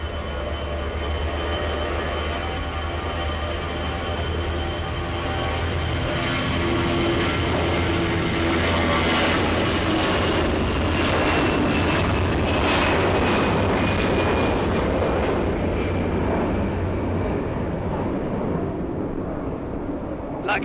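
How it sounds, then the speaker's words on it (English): A LATAM airliner takes off at Los Angeles airport, its broad engine roar building and holding strong for about twenty seconds before easing off, heard from a distance with a faint tonal whine running through it. "We got Latam getting ready to take off."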